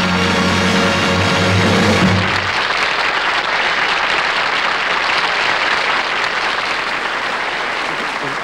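On The Red Skelton Hour, a studio audience applauds loudly and at length, taking over from a short burst of music and then holding as dense, sustained clapping that eases slightly toward the end.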